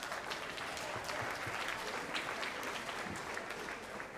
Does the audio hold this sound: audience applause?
yes